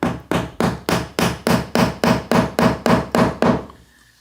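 Eleven or twelve sharp, evenly spaced hammer blows drive glued wooden sticks into stripped door hinge screw holes, loud and close, with no talk, ending abruptly in quiet.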